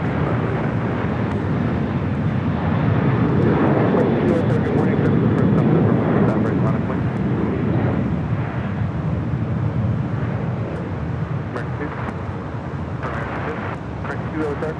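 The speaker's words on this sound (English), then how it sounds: "Here we have an A321neo with Delta about to take off to Orlando," A Delta Airbus A321neo taking off at LAX, a loud, steady roar of jet engines that swells and then slowly eases, with a voice talking over it.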